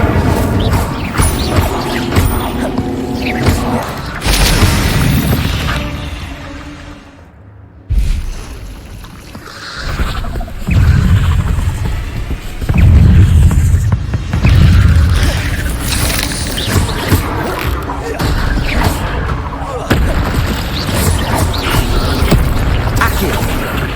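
Incendio fire spell cast in the video game Hogwarts Legacy bursts out with whooshing flame and crashing impacts amid loud game effects and music, several blasts over the stretch.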